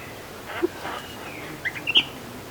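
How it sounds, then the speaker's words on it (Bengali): A caged myna bird gives a few sharp, scattered chirps over a quiet background, with a brief cluster of higher calls near the end. "শালিক পাখি কিন্তু খাঁচায়।"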